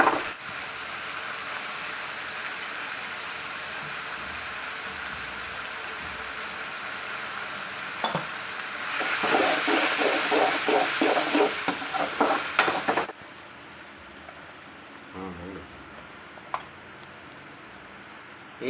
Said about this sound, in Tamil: தக்காளி போட்டு நல்லா மிக்ஸ் பண்ணி நல்லா வதக்கிக்கோங்க